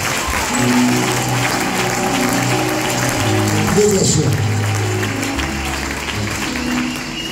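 Congregation at a worship service clapping steadily, a continuous wash of many hands mixed with crowd voices and music tones underneath, loud and sustained throughout.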